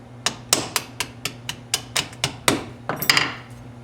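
Sharp metallic taps of a punch driving out a firearm's hammer pin, about a dozen close, evenly spaced strikes with a steady low hum underneath and a brief rattle near the end.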